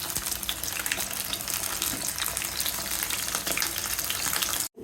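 Burger patties frying in hot oil in a home kitchen, giving a steady, close, dense sizzle and crackle that runs unbroken before cutting out abruptly at the end.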